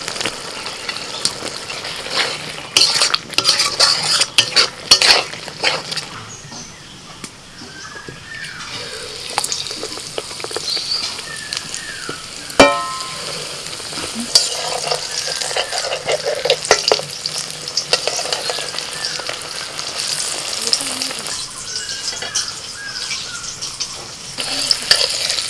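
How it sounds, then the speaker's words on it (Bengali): A spice paste of salt, turmeric and Kashmiri chili powder with a little water and chopped tomato cooks in a pan at an outdoor picnic, sizzling loudly with repeated scraping stirs and clanks over a long stretch. "অল্প একটু জল দিয়ে মশলাটা কষিয়ে নিচ্ছি"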